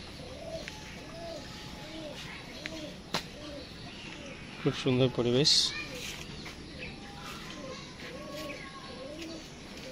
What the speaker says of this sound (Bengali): কবুতরগুলো এখানে আছে।